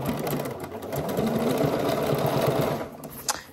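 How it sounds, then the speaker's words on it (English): A sewing machine runs steadily, stitching a 1/2 inch seam around the back facing of a pair of pants, with a continuous close whirring and a brief pause near the end. "we are going to be sewing this at 1/2 inch"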